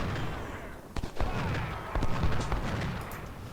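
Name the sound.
enemy artillery fire in Ultimate General: Civil War video game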